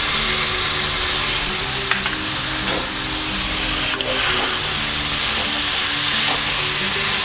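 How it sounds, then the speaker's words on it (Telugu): Onions frying in a pan until golden for an Andhra-style fish curry, a loud continuous sizzle close up with occasional spatula scrapes and clicks, no speech. "ఉల్లిపాయలు గోల్డ్ కలర్ వచ్చే వరకు మనం ఫ్రై చేయాలి"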